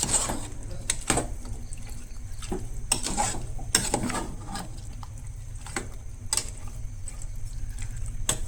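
Dry chicken chilli being stirred in a pan, with irregular scraping and clattering strokes over a soft sizzle, close and fairly quiet.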